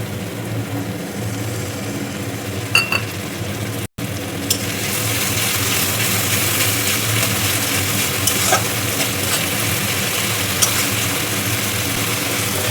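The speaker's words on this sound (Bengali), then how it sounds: "পেঁয়াজটা ভাজা ভাজা হয়ে গেছে, এখন আমি হলুদ আর লঙ্কার জলটা দিয়ে দিচ্ছি" Turmeric and chili water poured into frying onions in a hot pan, raising a loud, steady sizzle that holds throughout with faint stirring clicks and no talking.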